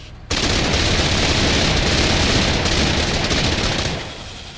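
Sustained burst of gunfire in the tactical video game Menace, a dense continuous rattle of shots lasting several seconds at loud, steady level before tapering off.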